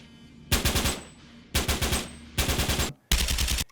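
Video game M4 rifle gunfire from the earlier multiplayer beta, heard as four close, loud bursts of rapid automatic fire separated by short pauses, with no talking.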